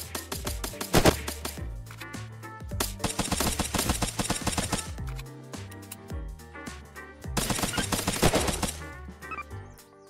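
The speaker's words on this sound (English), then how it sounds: "Are they trying to shoot the sentry?" Rapid bursts of gunfire at a sentry in the survival game Unturned: dense automatic volleys in several waves with brief gaps between, loud and close, with no talk.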